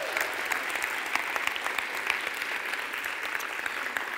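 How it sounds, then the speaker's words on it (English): Audience applause for people just on stage at a Sunday session, a steady wash of many hands clapping at moderate volume, continuous throughout with no voices standing out. "Could we please give them applause?"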